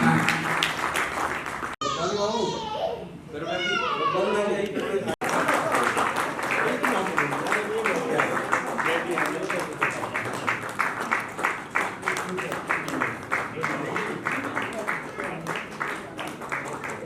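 Audience applause at an awards ceremony, a loud, dense, continuous clapping that runs throughout, with a voice speaking over a microphone briefly in the middle.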